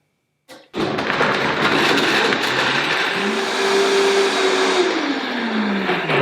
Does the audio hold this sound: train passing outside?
no